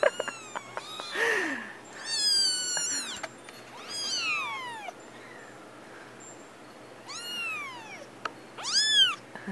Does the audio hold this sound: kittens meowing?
yes